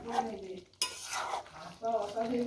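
Spicy chicken kosha being stirred in a pan: scraping, stirring strokes with a light sizzle and the occasional clink of utensil on metal, close by, with short pauses between bursts.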